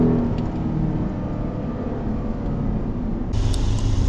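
A Mercedes SLK55 AMG runs a steady, loud engine drone at Brands Hatch Indy circuit, with wind and road rumble throughout and a brighter, higher-pitched note swelling in near the end.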